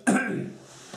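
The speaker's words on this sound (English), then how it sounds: "God, this cough" A man coughs once, a short harsh burst close to the microphone that trails off into quieter breathy noise. He is playing a Virtual Pool 4 online 9-ball match.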